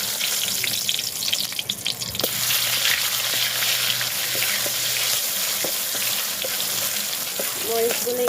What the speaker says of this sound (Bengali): তেল দিয়ে দিয়েছি এবার দিব মরিচগুলো